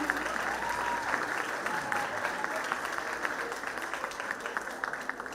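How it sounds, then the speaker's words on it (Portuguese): Audience at the 2023 inauguration of the Museu Banco de Cabo Verde applauds the traditional batucadeiras drummers, a sustained crowd clapping with sharp individual claps poking through and faint voices beneath. "Um forte aplauso para as batucadeiras de tradição de terra."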